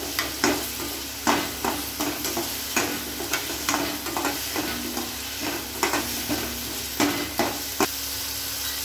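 Mushroom and cashew nut gravy masala sautéing on low heat while a spoon stirs it repeatedly, giving soft rhythmic scrapes and taps over a quiet, low sizzle, close and without voices.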